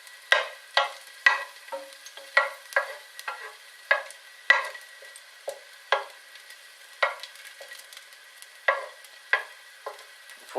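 Lamb pieces frying in oil in a pan that isn't flat bottomed, crackling in regular short bursts of sizzle and spatter roughly every half second, with no talk.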